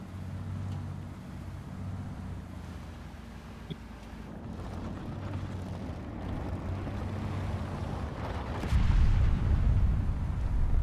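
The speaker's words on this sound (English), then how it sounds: "Okay, seems to be a helicopter." A helicopter in the War Thunder video game drones with a low, steady rumble, rising in loudness toward the end as it closes in, with engine and wind noise blended throughout.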